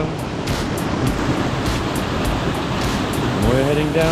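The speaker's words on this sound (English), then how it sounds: "there's the first sign of falling water" Falling water of a distant waterfall heard on a jungle hike in Jardín, a broad, steady rushing roar mixed with wind buffeting the microphone, and a voice briefly rising near the end.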